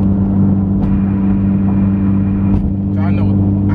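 A loud Honda Civic Si with an E85 tune cruising on the highway at about 70 mph, giving a steady droning engine and road rumble that continues throughout, with a brief faint rise near the end.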